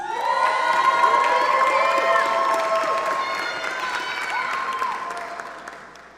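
A large crowd at an engineering ceremony applauds and cheers loudly and steadily, with shouts and whoops over dense clapping that slowly tapers toward the end.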